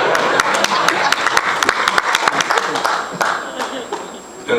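An audience at a stand-up comedy show claps and applauds, a fast scatter of sharp hand claps over a dense crowd wash that gradually thins out toward the end.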